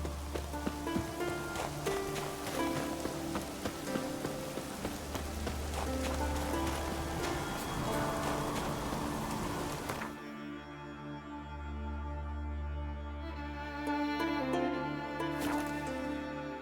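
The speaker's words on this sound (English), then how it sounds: "Looks like rain." Steady rain patters continuously on a surface, mixed with low game music, with no voices, in the video game The Witcher 3: Wild Hunt.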